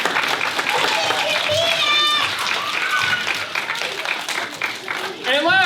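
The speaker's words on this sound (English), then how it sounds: "Give yourselves a round of applause." A group of children clap together after a bend-and-stretch exercise at a kids' story time, their steady scattered applause mixed with excited high voices and squeals throughout.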